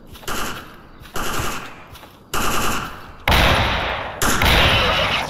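Automatic gunfire from the shooter game Stalker Anomaly crackles in loud sustained bursts, several in a row with brief gaps, growing louder and denser toward the end.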